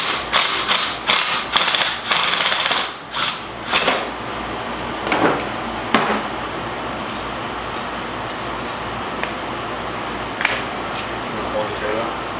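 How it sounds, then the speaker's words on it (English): Tools work on a turbocharger removed from a 2.0L Miata engine, giving sharp metallic clicks, ratcheting and clanks in bursts, up close with a person talking over them. "So we're gonna go ahead and take the turbo apart and go from there."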